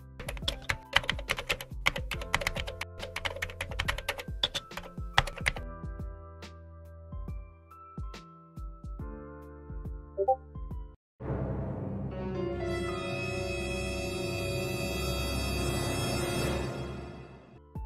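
Clicky switches on a custom mechanical keyboard are typed on in a fast, dense burst of close keystrokes. The typing thins to a few scattered clicks, then gives way to loud, sustained music-like sound.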